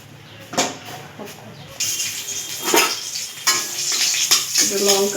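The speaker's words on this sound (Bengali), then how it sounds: "একটু লঙ্কা ভেজে নেব।" Green chilies frying in mustard oil in a pan, with a steady sizzle, scattered utensil clinks and a louder hiss that builds midway and stays.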